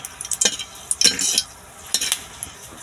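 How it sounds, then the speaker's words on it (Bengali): A split chilli fries in mustard oil in a wok, crackling in short bursts with a few clanks and scrapes of a spoon against the metal between quieter moments. "কড়াইতে আমি সরিষার তেল দিয়ে দিয়েছি, আর একটা ঝাল দুভাগ করে নিয়েছি, ফোড়নের জন্য দিয়ে দিলাম।"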